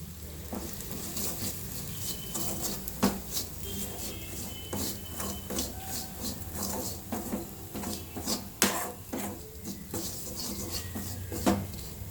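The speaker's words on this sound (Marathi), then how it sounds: "आता त्याच्यामध्ये हे लाल तिखट आणि मीठ आहे हे सगळं आता मिक्स करून घेणार आहे" Red chili powder and salt being stirred into roasted peanuts for peanut chutney in a pan over low heat, with steady close scraping and light tapping taps throughout, no talking.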